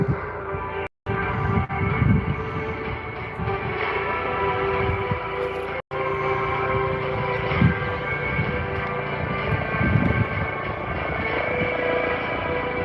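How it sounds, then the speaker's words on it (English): A Coast Guard MH-65 Dolphin helicopter's rotor and turbine hum steadily with a rhythmic chop at an airshow, close and continuous, with two brief dropouts breaking the drone. "The Coastguard MH-65 Dolphin helicopter."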